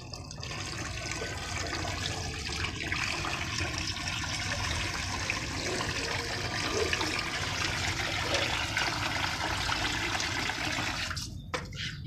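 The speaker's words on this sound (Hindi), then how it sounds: "बाकी इस रेत को भी पानी देते हैं क्योंकि मुर्गियाँ इसके अंदर आके बैठती रहती हैं" Water poured over sand in an outdoor chicken enclosure, a steady splashing, gushing wash that runs continuously and fairly close before cutting off near the end, with no talking.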